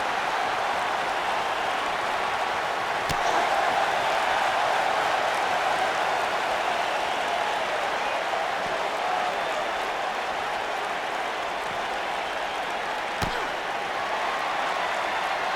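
Crowd in the WWE 2K19 wrestling video game cheering and applauding in a dense, even wash of clapping and noise that runs steadily throughout, with a couple of sharp thuds cutting through.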